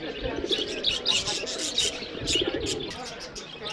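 Lovebirds chirp and tweet in quick bursts nearby at a market, with soft cooing of pigeons and faint background murmur of voices.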